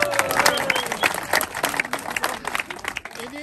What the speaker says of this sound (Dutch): Heeft die mens misschien een daverend applaus voor de organisatie?